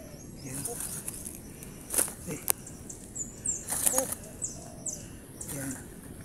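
Loud wild bird calls during a bird-hunting outing: a few sharp, high chirping bursts stand out, with quieter chirps between them, over background noise and a person talking.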